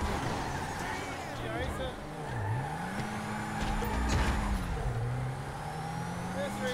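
Engines of racing cars in GTA 5 drone and shift pitch steadily throughout, rising and dipping as the cars accelerate, with people talking over the engine noise.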